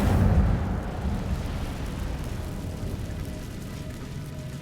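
An Incendio fire spell in Hogwarts Legacy goes off as a brief whooshing burst followed by a roaring, rumbling fire sound that slowly fades.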